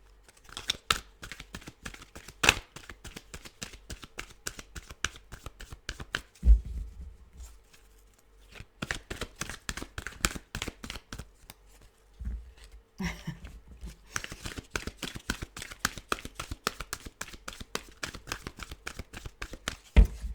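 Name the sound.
shuffling a deck of tarot cards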